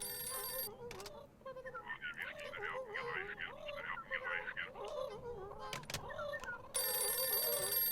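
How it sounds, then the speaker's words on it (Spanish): A phone rings in short repeated electronic trills, with game-style chirps and music under it, in the video game White Shadows. "Vamos a coger el teléfono."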